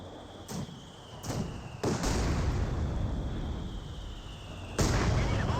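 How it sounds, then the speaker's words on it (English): Mortar rounds from an 81mm mortar burst in a Company of Heroes 2 battle, with several sharp blasts, one near the start, one at about two seconds and another near the end, over steady rumbling battlefield noise. "A second 81mm mortar deployed on the field."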